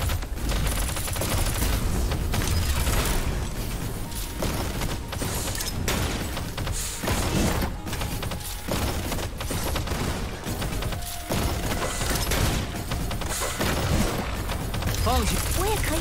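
Gunfire and combat effects from the video game Punishing Gray Raven, dense bursts of shots and booms layered over music and character voice lines throughout.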